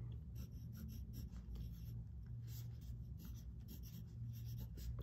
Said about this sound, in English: So at the top, write your name.